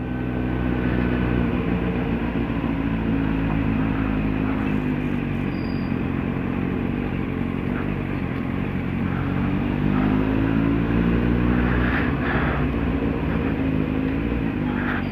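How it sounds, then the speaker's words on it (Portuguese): Kawasaki Z750 motorcycle engine revving and accelerating on a night ride, a loud, steady engine roar with shifting harmonics that fills the whole stretch, with no talking. "O Ivo parece que tem medo de acelerar a moto."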